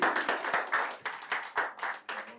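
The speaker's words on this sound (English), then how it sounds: "Clap for him now." Audience clapping at a CEO investment retreat in Doha, a small group applauding in loose rhythmic bursts, fairly close and moderately loud, tapering toward the end.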